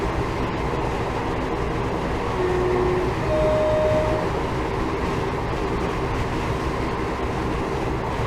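Diesel passenger train coasting with power shut off on the Shrewsbury to Swansea line, a steady loud rumble of wheels and running gear throughout with no talk.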